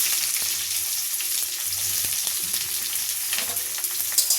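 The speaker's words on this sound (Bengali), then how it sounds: "পেঁয়াজগুলোকে একটু ভেজে নেব" Onions and green chilies frying in a pan with a steady, dense sizzle and occasional faint scrapes of stirring, close by and continuous, with no voices.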